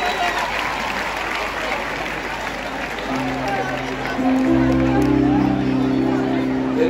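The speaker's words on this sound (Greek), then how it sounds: "Χειροκρότημα και για τη φίλη μας" A large crowd at a political rally for Argyros in Veria applauds and murmurs, steady clapping and babble that swells louder as music enters partway through and plays beneath the noise.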